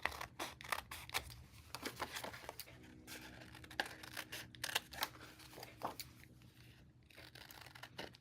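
Close, quiet snips of scissors trimming a handmade vintage-style square paper tag, a series of crisp cuts in an uneven rhythm with faint paper rustling between them.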